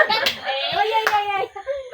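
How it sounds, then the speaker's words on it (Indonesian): A few sharp hand claps break out during a group guidance session, mixed in with overlapping voices. "Oke, tepuk tangan."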